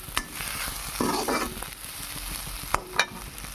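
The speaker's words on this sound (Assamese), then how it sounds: "মই এতিয়া আলুখিনি দি অলপ ভাজি লৈছোঁ" Potatoes sizzle and crackle in a hot pan, with scraping stirs and a few sharp clinks of a utensil against the pan.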